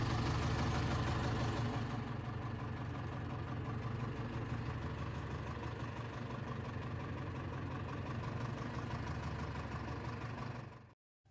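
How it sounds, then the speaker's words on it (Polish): Ursus C-355/C-360 farm tractor engine idling at low revs to warm up, a steady, loud, even diesel chug that runs continuously up close before stopping abruptly at the end. "Następną czynność będzie zagrzanie silnika do odpowiedniej temperatury. 15-20 minut, pochodzi na wolnych obrotach."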